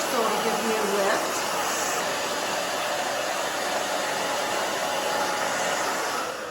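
A hair dryer blows on a woman's short, layered haircut with a loud, steady, close whoosh from start to finish. A voice is briefly heard near the beginning.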